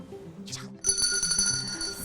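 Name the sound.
desk bell ringing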